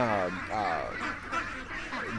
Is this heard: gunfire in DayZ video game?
no